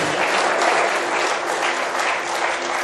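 Audience applause from an auditorium of a couple hundred people at a motivational speech, a dense steady burst of close clapping that fills the moment alone.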